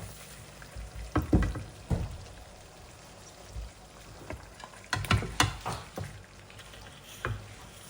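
Pre-fried chicken pieces drop into a pan of cooked spice paste, followed by a soft sizzle and irregular scraping and stirring thumps, fairly quiet and close.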